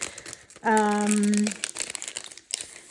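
Crinkling plastic packaging as Paperie Planning script stickers are pulled out, a close, papery rustle that runs through the clip, with a brief voiced sound near the start.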